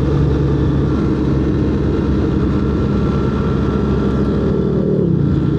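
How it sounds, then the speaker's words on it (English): A 2025 BMW R 1300 GS motorcycle riding and downshifting on a Pennsylvania road, its engine a loud, steady rumbling drone mixed with wind roar, the pitch easing slightly near the end; no talking. "Let's downshift. And this bike definitely is snappier on the throttle"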